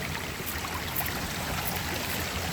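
Cold mountain stream flowing without pause along a hillside trail, a steady close rushing wash that fills the whole stretch at an even level with no talk.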